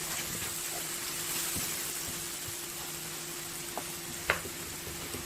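Taro pieces sizzling and frying in a pan as they are stirred, a steady hiss of bubbling liquid with occasional light scrape or clack of the utensil, close and continuous with no talk.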